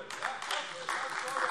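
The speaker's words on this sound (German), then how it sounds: "Folgerichtig kriegen Sie hier sogar Applaus von der linken Fraktion." Applause from a political faction fills a German state parliament plenary session, a dense burst of clapping heard continuously and fairly loud for the whole short stretch.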